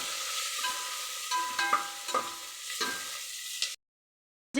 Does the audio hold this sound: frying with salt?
yes